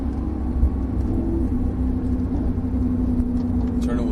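Porsche 997 Turbo engine accelerating on a track, a steady, loud mid-pitched drone with a sustained tone holding throughout, continuous and close.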